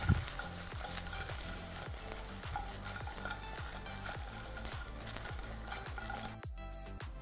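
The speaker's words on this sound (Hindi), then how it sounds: "इस वक्त इसमें हम डालेंगे हमारा ये पनीर जो फ्राई किया हुआ है, हल्का सा नमक, और इसे हमें टॉस करना है" Fried paneer for Paneer 65 is tossed in a pan on high flame, a loud, constant sizzle punctuated by a regular rhythm of scraping, stirring strokes that stop abruptly near the end, with no talking.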